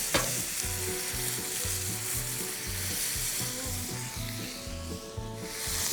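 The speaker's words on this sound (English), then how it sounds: "We're gonna get our onions on. Just a little butter." Onions frying in butter on an Argentinian grill, a steady loud sizzle with a regular low scraping rhythm from stirring running throughout, no voices.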